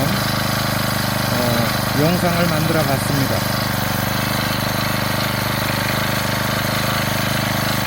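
The small four-stroke petrol engine of a brush cutter drones steadily throughout, with someone speaking briefly over it.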